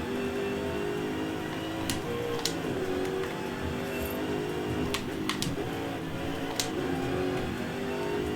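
Race car engine in Forza Horizon 5 droning and revving steadily at close range, with short sharp clicks and bursts over the constant tone and no voices.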